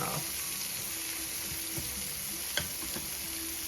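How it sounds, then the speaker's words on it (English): Cube steak frying in hot oil while browning, a steady close sizzle with a couple of faint utensil clicks partway through. "our steak's got good and brown now, so we're going to dip it out of the oil"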